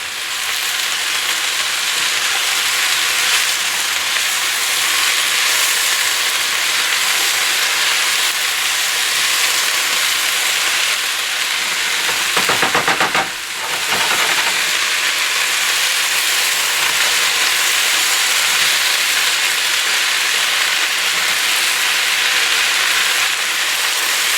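Meat filling for a pasty sizzles and fries loudly and steadily in a pan, a dense continuous hiss close by, with a brief rattling toss midway.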